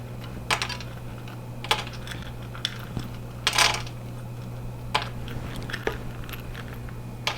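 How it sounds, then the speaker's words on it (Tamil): Cashews dropped one by one into melted ghee in a pan for payasam, a series of light clicks and sizzling ticks spaced irregularly over a low steady hum, close and fairly quiet. "நம்ம கேஷ்யூஸ் இருக்குல்ல அதை நம்ம போட்டுக்கலாம் நம்ம பாயசத்துக்கு"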